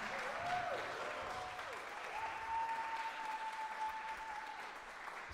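Audience applause at a graduate jazz studies recital, a steady wash of clapping throughout with a brief whistle or two riding over it.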